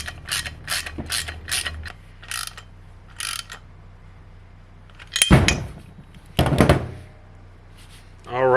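Bursts of ratcheting from a wrench tighten a bolt on the axle bump stop of a 1996-2004 Mustang, close and rhythmic in short runs with pauses and a few louder mechanical clunks, as someone talks between them.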